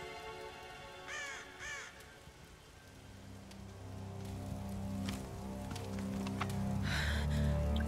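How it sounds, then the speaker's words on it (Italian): Video game rain falls steadily on surfaces in Tomb Raider, a soft continuous patter that grows louder toward the end, with a couple of crow caws early on and no talk. "Smesso di piovere, perfetto."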